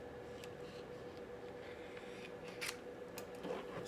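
Scissors snip through a heat-transfer vinyl sleeve print, a few soft cuts and rustles of the sheet, close and quiet over a steady low room hum.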